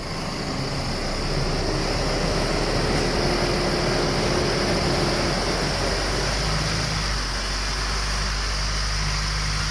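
A steady Isuzu D-Max engine drone with a low rumble, revved and held at a constant raised level throughout during an air-conditioning repair, close by with a broadband hum and no voices.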